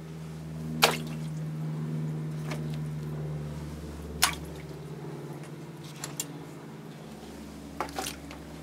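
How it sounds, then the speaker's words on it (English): Water poured over a mounted Phalaenopsis orchid to soak the mount gives a few sharp drips and splashes at irregular intervals over a steady low hum, close and fairly quiet. "So I'm soaking the mount."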